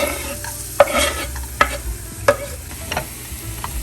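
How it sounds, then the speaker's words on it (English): Garlic cloves frying in a pan over medium-high heat for a shawarma filling, a soft steady sizzle marked by several sharp scraping strokes at regular intervals, close by and with no voices. "We're gonna cook that garlic over medium-high heat"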